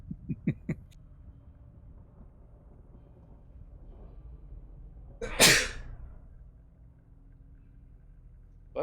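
One sharp sneeze bursts out close by against a quiet, low background rumble, with a few faint knocks just before it.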